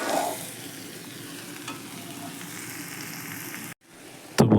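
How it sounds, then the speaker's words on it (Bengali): Small ground shrimp fry in a pan, a steady crackling sizzle with stirring scrapes, then a brief drop-out followed by a louder burst of sizzle near the end. "এই যে ছোট ছোট চিংড়ি মাছ, গুঁড়ো চিংড়ি প্রায় ভাজা হয়ে এসছে"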